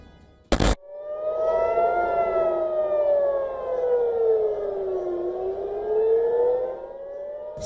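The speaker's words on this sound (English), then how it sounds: "Sirens wail over Tel Aviv and Tehran" An air raid siren wails over Tel Aviv, a loud rising and falling tone that sweeps up and down alone, preceded by a brief sharp burst at the start.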